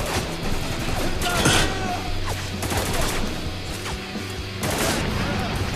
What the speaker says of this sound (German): Ein Schuss, ein Treffer.